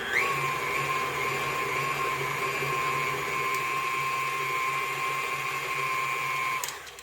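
An electric mixer whirs steadily while creaming eggs into gluten-free brownie batter in a kitchen, a close, continuous motor whine with a clear pitched hum that holds for several seconds before cutting off abruptly.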